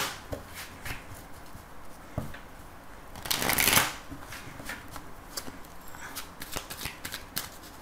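Oracle and tarot cards being shuffled by hand, a series of soft riffling and flicking bursts close by with one longer, louder riffle midway, quiet overall.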